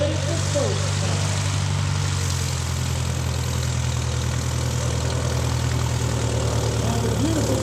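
A propeller airplane at an airshow drones steadily as it comes around on a photo pass, its engine a continuous loud hum that shifts slightly in pitch, with a voice talking over it.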